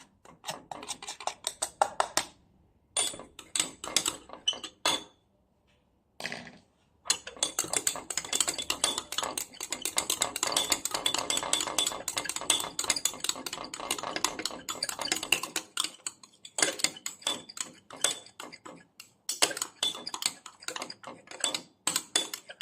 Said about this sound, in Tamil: எலோவேரா ஜூஸுடன் சார்கோல் பவுடரையும் போட்டு நன்றாக மிக்ஸ் பண்ணி கொள்ள வேண்டும்.